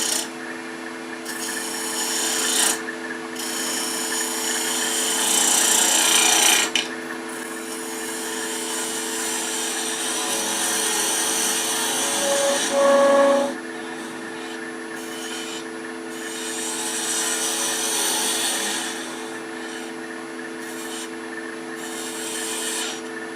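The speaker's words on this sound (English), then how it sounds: "Use a spindle gouge for that." A spindle gouge cutting wood on a lathe while a garlic keeper box is shaped, giving a steady close scraping rasp with bursts of stronger cutting and short pauses throughout.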